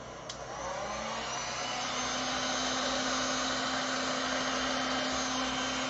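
A handheld dryer blows over masking fluid on a ceramic tile, a steady close whooshing whir with a faint hum that switches on after a brief click and holds constant.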